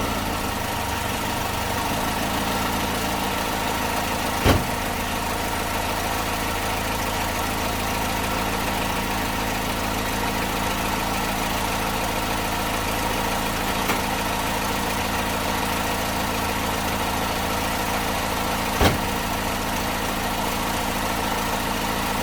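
A Datsun car engine idling after carburetor work, a steady, loud, unbroken hum with even vibration throughout and a couple of faint clicks.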